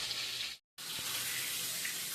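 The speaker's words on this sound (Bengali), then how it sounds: "মাছের মাথাটা তেলে দিয়ে দিলাম ভাজার জন্য" A kalbaus fish head frying in hot oil gives a steady, bright hiss with a brief break in the middle, close and fairly quiet.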